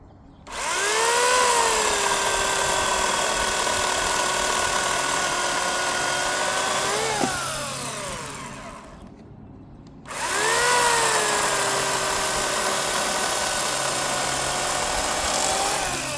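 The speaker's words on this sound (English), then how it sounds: "So I got the chain back on my electric chainsaw." An electric chainsaw cuts through a felled tree trunk log, running loud and steady at close range, then dropping as the blade bogs down and stops briefly before starting up again for a second long, even run.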